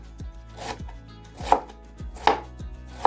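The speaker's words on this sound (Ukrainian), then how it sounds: "Спершу потрібно дрібно нарізати капусту, так як зараз ми шинкуємо" A knife finely shreds cabbage on a board in a close, regular rhythm of crisp chops, about one every half second, with no voices.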